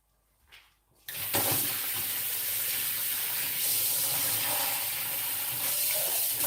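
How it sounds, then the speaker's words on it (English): Cold water is poured from a tap or vessel into a pot of hot bay leaf water in a kitchen, a steady splashing stream starting abruptly after a faint handling noise and running continuously near and alone. "So I'm adding in some cold water in here."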